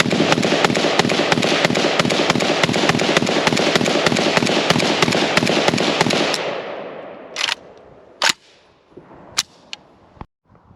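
A KUSA KP-104 carbine rifle fires a long rapid string of evenly spaced, loud sharp shots at the range, followed by a few isolated single shots with short decays.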